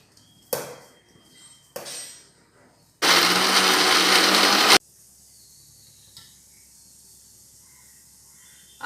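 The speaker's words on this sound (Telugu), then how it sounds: "టమాటా చట్నీ మిక్సీకి వేసేద్దాం." A kitchen mixer grinder blends tomato chutney in one loud, whirring burst of about two seconds, with a few clinks and knocks from the jar before and after in an otherwise quiet kitchen.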